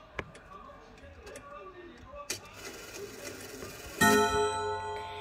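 A chiming clock fitted with two chime rods gives a few sharp ticks and taps, then a ringing metallic chime strike that sustains and slowly fades, close by in a quiet room.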